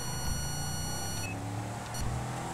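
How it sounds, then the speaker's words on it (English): An electronic beep sounds from a police car in the GTA 5 video game, a brief tonal blip heard over a steady engine hum and game ambience. "we're just gonna follow with code 2 because it just made that beep"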